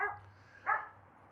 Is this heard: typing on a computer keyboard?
no